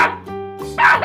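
A dog barks in one brief burst with a yip at the end, close and loud. It sits among a children's lesson on animal names and sounds.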